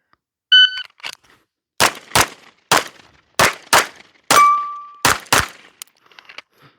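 Gunshots ring out at steel targets during a fast shooting drill outdoors: seven or eight sharp, loud reports in quick irregular succession, some followed by bright metallic pings and one longer ringing tone from struck steel.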